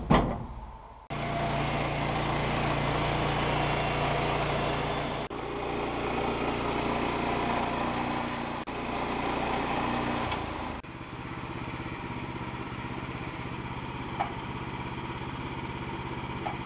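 Sawmill cutting boards off a log cant in a shed, a steady loud engine drone running nearly the whole time with a brief dip midway and a small click near the end.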